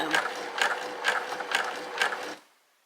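A Babylock Primo sewing machine runs in five quick, even bursts of rhythmic mechanical clatter, close and fairly loud, then stops abruptly, leaving near silence at the end.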